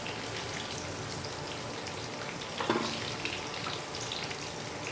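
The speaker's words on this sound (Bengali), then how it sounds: "অনেকটাই ভাজা হয়ে গেছে" Capsicum sizzles and crackles as it fries in a pan for pasta, a steady spitting hiss that carries through the whole stretch. A slightly louder burst of spattering comes near the middle, and no one speaks.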